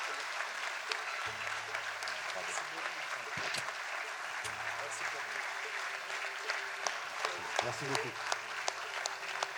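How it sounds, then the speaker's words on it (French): An audience at a New Year's greetings ceremony in Villejuif applauds in a steady, moderate clatter of hands, while someone speaks briefly through the clapping. "On peut les applaudir, s'il vous plaît"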